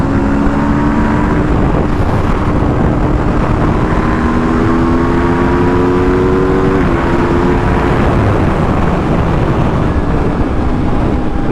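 A 2021 Aprilia RSV4 1100 sportbike roars steadily while being ridden, its engine note holding a continuous tone that shifts pitch partway through, mixed with heavy wind rush.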